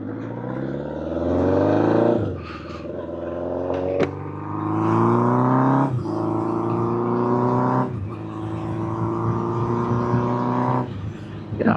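A 1979 Honda CB750F Super Sport motorcycle under way, its engine note climbing steadily through each gear and then dropping sharply at the shifts, which come at about two-second intervals. Wind noise sits close around it.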